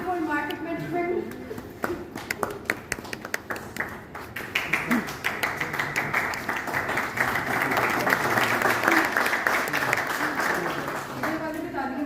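An audience at an MBA closing ceremony in Pakistan breaks into applause, sparse claps at first that swell into a full, sustained round, with a speaking voice heard at the start and end.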